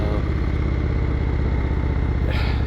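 An Indian motorcycle with a Thunderstroke 111 engine runs close and loud, with a steady, deep, pulsing thump from its lumpy idle. No voices are heard.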